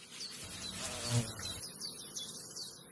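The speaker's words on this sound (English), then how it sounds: "The digger wasp feeds on nectar, but to nurture its offspring, it resorts to hunting." A female digger wasp, a grasshopper-hunting insect, buzzes close by in an open outdoor setting, a steady droning hum that swells briefly around its midpoint before settling back to a continuous near buzz with no voices.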